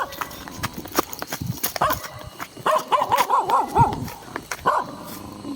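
A dog barks several times in a quick run, fairly close, with clattering and rustling noises and scattered background sounds around it.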